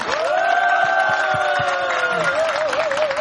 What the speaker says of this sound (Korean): 뜨거운 환호와 박수를 부탁드리겠습니다